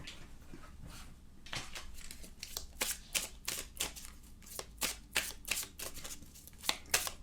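Tarot cards are shuffled close by in quick, irregular flurries of crisp riffling snaps, quiet overall and without speech.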